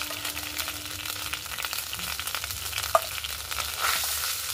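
A ground spice paste fries in hot oil, crackling and sputtering steadily while a spoon stirs and scrapes the pan, with a single sharp clink midway and no speech.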